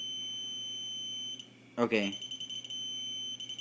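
An ACDelco ARM602 digital torque adapter emits a high steady electronic tone on reaching its set torque. The tone pauses briefly, then sounds again, and someone speaks a short word over it.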